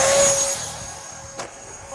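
A small electric motor on an HK Flycat model airplane runs at full throttle in a steady, loud high whine that eases slightly, with a brief sharp noise near the end.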